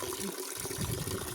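Water splashing and gushing as it pours from a bucket onto garden plants, a steady close wash of liquid lasting over a second.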